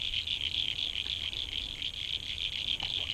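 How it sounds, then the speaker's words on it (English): Frogs calling at Newlyn's Reservoir, a dense steady chorus of high, rapid trilling croaks that fills the background continuously without pause. "Listen to the frogs."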